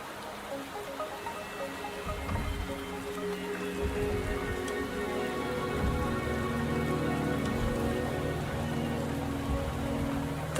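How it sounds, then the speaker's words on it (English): Steady rain falling in the game Wuthering Waves, a dense continuous patter of drops on surfaces that swells slightly louder partway through, with no voices. "The rain is subsiding, and the sky will soon clear."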